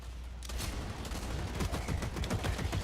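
A light machine gun fires in the video game Blacklight Retribution, with sustained rapid automatic bursts of close, loud, dense gunfire that start abruptly and continue for nearly three seconds.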